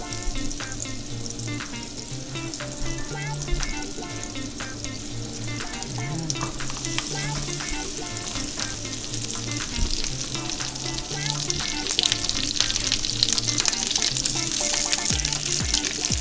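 Two tablespoons of unsalted butter sizzle and fry steadily in a pan on a lowered burner while making keto burgers, a dense continuous crackle with occasional stirring and clinks, close and fairly loud throughout.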